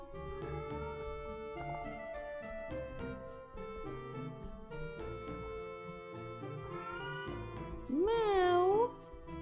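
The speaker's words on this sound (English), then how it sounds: "I hear a cat." A cat gives one drawn-out, rising and falling meow near the end. It sounds over steady background music with chiming, tinkling notes.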